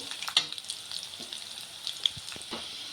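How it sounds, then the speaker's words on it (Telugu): Dried red chillies frying in hot oil in a pan while making a brinjal gongura chutney: a steady, soft sizzle with scattered small crackles and a couple of sharper pops. No talk. "నేను ఇప్పుడు ఇందులో ఎండుమిర్చి వేసుకుంటున్నాను చూడండి ఇవి కొంచెం ఫ్రై అవ్వాలి"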